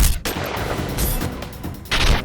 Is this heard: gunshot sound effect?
yes